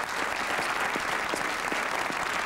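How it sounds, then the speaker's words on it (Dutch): Studio audience applause on a Flemish TV game show from 1991, continuous dense clapping from a crowd, loud and even with individual claps standing out near the front. "We geven een geweldig applaus aan Marian."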